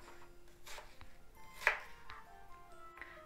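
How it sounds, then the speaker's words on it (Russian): A knife cuts an onion into lengthwise pieces on a board while preparing a potato, mushroom and onion filling, giving a few sparse, separate chopping taps, one sharper and louder than the rest. "и теперь нарежем лук"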